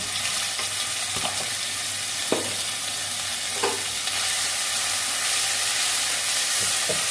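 Bottle gourd tipped into hot oil with nigella seeds and green chilli, a loud continuous sizzle broken by a few spoon knocks against the pan.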